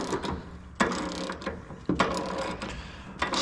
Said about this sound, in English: Just grab my ratchet and deep well 15/16.